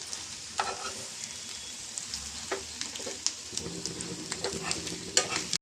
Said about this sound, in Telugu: అలా తిప్పుకుంటే మనం కొంచెం ఇటు కూడా కొంచెం ఫ్రై అవుతుంది.